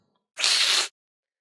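A cat hisses once, a short sharp breathy burst of about half a second, close and isolated against silence.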